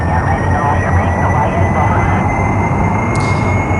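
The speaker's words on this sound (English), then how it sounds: "the engine works now because it can be fed with oxygen, like all jet engines are" A space plane's jet engine in the video game Kerbal Space Program roars in a steady, loud, unbroken drone with a thin high whine, under faint talking.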